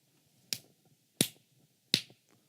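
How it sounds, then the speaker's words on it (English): Three sharp single hand claps, spaced evenly apart, each a crisp close transient fading quickly into near silence. "every time I clap my hand"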